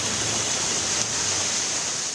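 Heavy rain driven by stormy wind in Dhaka pours as a dense, unbroken hiss, loud and close, with no pauses or voices.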